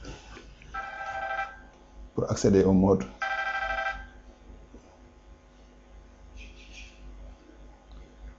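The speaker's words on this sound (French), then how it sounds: "c'est un téléphone là qui sonne" A telephone rings in two warbling bursts separated by a short spoken phrase, then gives a fainter third burst later on, with a quiet background between them.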